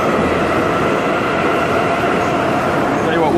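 A Kyiv metro train roars loudly and constantly around the listener, a dense rumbling wash of wheel and tunnel noise with a brief high squeal near the end, and a voice talks beneath it.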